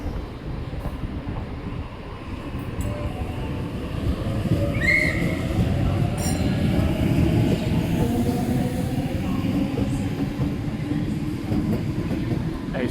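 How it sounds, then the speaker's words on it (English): A City Circle train departs Bankstown station with a steady, continuous rumble of rolling wheels and rail noise that builds slightly, heard near and without talk. "City Circle service now departing."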